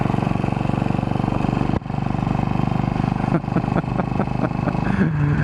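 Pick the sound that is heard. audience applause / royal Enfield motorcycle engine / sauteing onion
royal Enfield motorcycle engine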